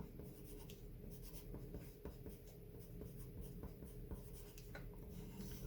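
A pen scratches steadily on paper, writing out a word in the centre of a page, with quiet irregular strokes and taps close by and no talking.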